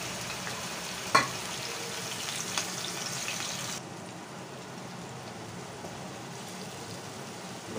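Ground onion paste frying in oil in a kadai, a soft steady sizzle with a brief stir clatter early on, easing to a quieter sizzle partway through.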